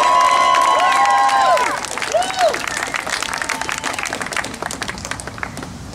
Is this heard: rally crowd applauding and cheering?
yes